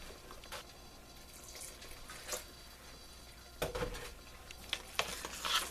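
Milk poured into a pot of cheesy mashed potatoes, a soft trickling liquid pour with faint splashes and a few louder clanks near the end, no talk.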